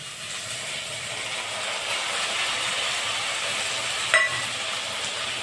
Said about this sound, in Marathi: आता त्यातच मी दोन टमाटे घालत आहे